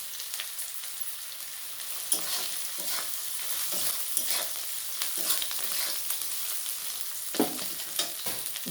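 A bay leaf sizzles in hot oil for a fish-head and Malabar spinach curry, a soft, steady frying hiss that is fairly quiet and close. Occasional light clicks and scrapes of stirring come through, and no one speaks.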